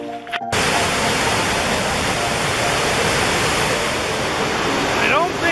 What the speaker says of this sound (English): As waterfalls goes, Chittenango Falls is pretty impressive.